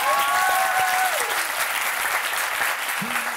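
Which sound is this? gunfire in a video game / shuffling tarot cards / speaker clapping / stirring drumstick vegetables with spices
speaker clapping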